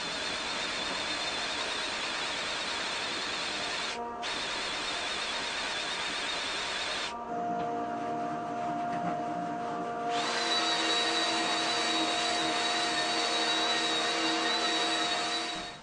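A Makita floor machine runs with a dust extraction setup, making a loud, steady whine and roar with no talking. The pitch and tone shift partway through as the load changes.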